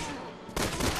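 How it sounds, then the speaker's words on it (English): Gunfire from a gun in the video game Resident Evil 6 erupts as a sudden loud burst about halfway through, over a dense, noisy game soundtrack. "Looks like I'm going to have to use my gun on this one."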